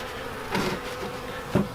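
Honey bees drone around a weak beehive in a close, continuous buzz, with two brief louder passes as bees fly near.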